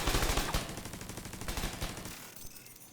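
A skill turret in The Division 2 fires rapidly, a dense close burst of automatic shots that thins out and stops near the end.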